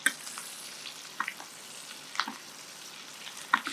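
A New York steak sizzles while being butter-basted in a pan, a low steady frying hiss broken by a few brighter spitting pops at intervals, fairly quiet and with no voices.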